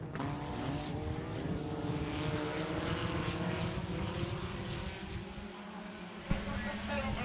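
IMCA Sport Compact race cars running a qualifier at Stuart Speedway, a dirt oval, with a continuous far-off engine drone from the field while an announcer talks over the track's loudspeakers.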